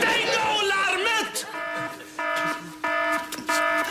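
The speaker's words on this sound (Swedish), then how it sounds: "Stäng av larmet!" A fire alarm rings in repeated bursts of steady electronic tone, loud and close, with people speaking over and between the pulses.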